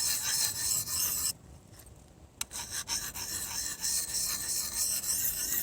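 A bushcraft knife or hatchet edge is drawn along a sharpening stone, a slightly gritty rasping scrape in repeated close strokes with a brief pause partway through.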